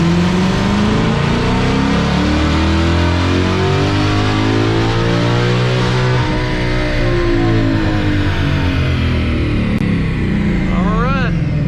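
A 2020 Shelby GT500 engine on a dyno revs in one long, loud, continuous pull from about 2,000 RPM to the factory rev limit, the pitch climbing steadily throughout before it cuts off near the end.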